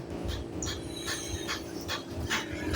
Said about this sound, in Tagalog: Ito ng mga aso ito, ngat-ngat ito ng ngat-ngat.